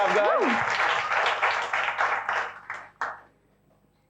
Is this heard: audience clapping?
yes